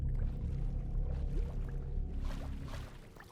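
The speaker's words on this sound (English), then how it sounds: "A lot of water though." Flowing water in Minecraft, a steady washing, pouring rush that stays fairly prominent throughout, with a few faint higher splashes near the end.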